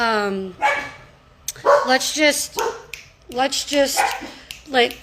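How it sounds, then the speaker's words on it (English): Dogs barking indoors in a few bursts of sharp yelps and woofs, loud and close, mixed in with someone talking. "my dogs are barking."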